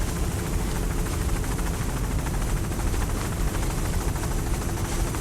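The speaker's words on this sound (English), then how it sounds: "That's David Clark in that helicopter" Helicopter flying over the 1999 Fort Myers offshore powerboat race, a loud, steady rotor and engine roar that fills the whole stretch with no talking.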